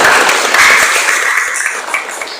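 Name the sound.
audience clapping hands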